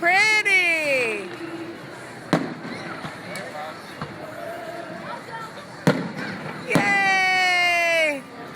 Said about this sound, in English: We're trying to let everybody see the fireworks at Hampton Beach.